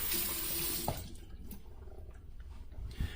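Cold water runs steadily from a bathroom sink tap and then cuts off, leaving splashes and drips as someone rinses their face after a shave. The sound is close and fairly loud, with no talking.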